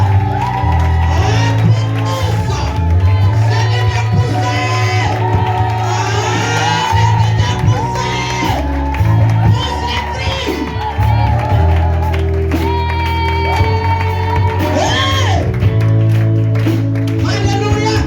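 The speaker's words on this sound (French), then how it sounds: "Pousse tes cris de victoire." A church congregation at a revival service in Bingerville shouts victory cries and cheers, loud and sustained, with whoops and clapping over steady music and voices throughout.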